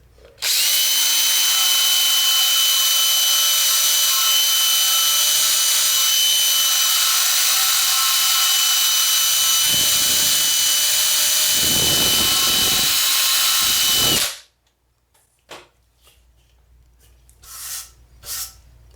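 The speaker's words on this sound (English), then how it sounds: "you can go over this with the wire brush like this, but don't touch in here" Power wire brush scrubbing rust off the rear differential housing of a 1997–2003 Ford F-150, a loud steady high whine lasting about fourteen seconds before cutting off, followed by faint clatter.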